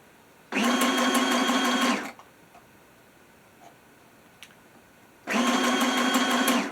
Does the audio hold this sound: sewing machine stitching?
yes